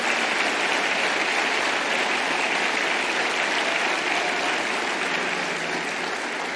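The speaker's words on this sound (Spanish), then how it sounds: "Si va a aplaudir, aplauda como para Dios." A church congregation applauds in sustained, even clapping that fills the space from start to finish, dense and steady with no distinct individual claps standing out.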